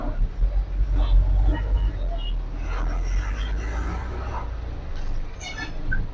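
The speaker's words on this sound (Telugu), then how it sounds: "చూడండి జనాలు ట్రాఫిక్" Busy city road traffic passing a loaded cement truck on its way to Badvel: a steady low engine rumble and passing cars and buses, with faint horns and brief voices mixed in.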